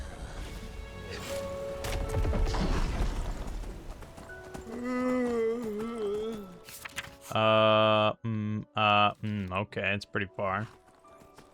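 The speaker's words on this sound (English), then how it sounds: "I will summon a cool horse for myself then" A summoned horse in Enderal, the Skyrim mod video game, clip-clops and whinnies in short bursts, with someone talking over the start of the game sounds.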